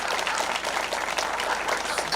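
An audience at a women's workshop launch claps for a speaker, with a brief, dense, steady burst of applause.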